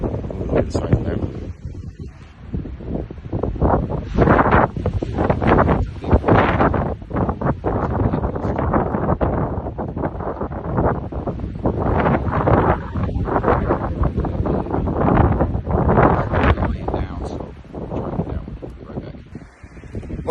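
Gusty wind buffets the microphone outdoors during an archery hog hunt, a loud, continuous roar with surging rustle that fills the whole stretch alongside someone talking.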